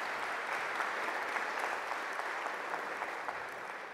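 Audience applause at a round-table discussion on the Guelaguetza and Indigenous peoples, a steady dense wash of clapping that holds evenly for the whole span without any voices.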